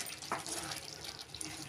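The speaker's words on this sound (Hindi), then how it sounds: "तो थोड़ा डालेंगे हम पानी ग्रेवी के लिए" Water runs and splashes as it is poured into a ridge gourd curry to make the gravy, a faint, short trickle heard on its own in a home kitchen.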